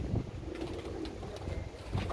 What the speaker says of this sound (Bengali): এইখানে দেখেন আকাশে একজন উঠতেছে কবুতর, অনেক ধরনের কবুতর এখানে আছে।